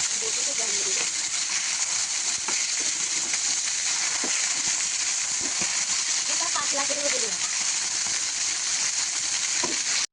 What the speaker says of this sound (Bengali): আমার মাছটা ভাজা কমপ্লিট